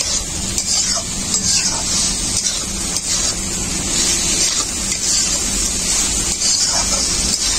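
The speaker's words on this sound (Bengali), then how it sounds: "এখন আমি ভেজে রাখা কচুগুলো দিয়ে দেব। মশলাটাকে কচুর সাথে খুব ভালো করে কষিয়ে নেব।" Fried taro pieces are stir-fried with masala in a hot pan, a steady close sizzle with scraping and stirring of the spatula running throughout, no talking.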